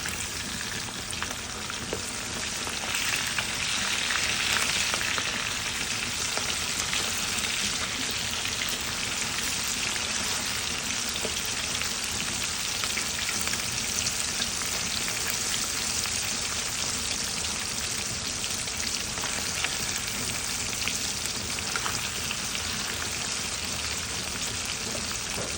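Fish browns in a frying pan for a stewed fish dish, a dense, continuous sizzle and crackle of hot oil spattering close by, steady for the whole stretch with no voices.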